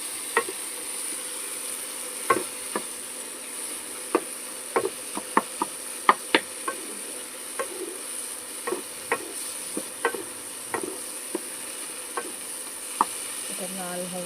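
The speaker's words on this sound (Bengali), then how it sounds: "ডিমটাকে ভেজে নেবো" An egg fries in a pan with a steady faint sizzle hiss. Irregular crisp pops and ticks crackle across it, fairly quiet and with no voices.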